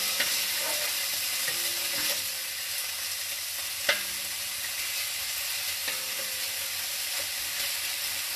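Frying pan turned up on high heat with a light coating of oil or fat, giving a steady sizzle with a few soft clinks of stirring, close and without talk.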